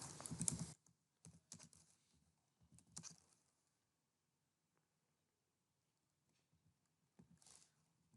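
Computer keyboard being typed on to compose Urdu text in Microsoft Word on a PC or laptop, quiet short bursts of key clicks separated by pauses, with no talking.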